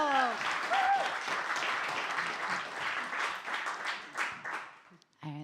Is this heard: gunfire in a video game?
no